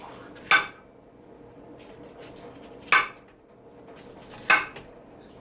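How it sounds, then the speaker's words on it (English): A knife chopping a bell pepper on a board with three sharp, well-spaced knocks, close and clear over quiet kitchen background, with no talking. "I'm going to cut it up relatively tiny"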